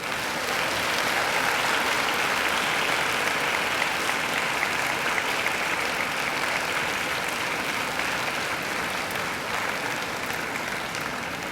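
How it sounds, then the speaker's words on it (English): Graduates at a university graduation ceremony applaud their family and friends, a dense, steady round of clapping from a large crowd that holds at even loudness throughout, with no voices standing out. "give them a mighty round of applause"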